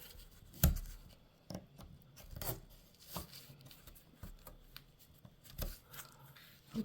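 A knife cutting to widen the nock of an oak dowel arrow, giving quiet, close scraping and shaving strokes, several short sharp cuts spaced irregularly over a hushed background.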